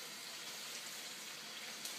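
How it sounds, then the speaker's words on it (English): Tap water pours steadily into a soup pot, a soft continuous splashing hiss at low level with no talking. "I'm gonna fill the pot directly right up and put a lid on it"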